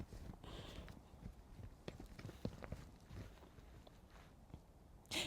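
Horses walk past with soft, uneven hoof clip-clops that sound quiet and somewhat distant against faint outdoor background noise.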